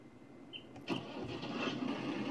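Starter crank and catch of a Fiatagri 180 tractor engine in the Farming Simulator 19 video game, a brief quiet whir followed by a low engine rumble that settles into a steady idle.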